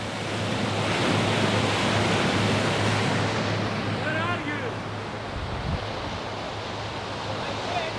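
Rushing water and steady wind noise out on the River Nile, heard from a luxury cruise ship sailing between Aswan and Luxor, a continuous broad wash that eases slightly partway through.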